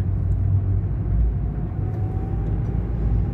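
A car accelerates through traffic in Joinville's city centre, a steady close engine rumble that swells slightly, with no talking.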